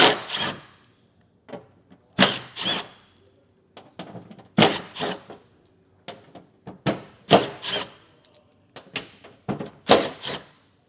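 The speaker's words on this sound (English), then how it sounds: "I have a T30 Torx. We'll need to remove all of these Torx screws." Torx screws being worked loose with a T30 driver from the tailgate of a 2021 Toyota Tacoma, giving a series of sharp clicks, scrapes and brief rattles in irregular bursts, close and moderately loud with no talk.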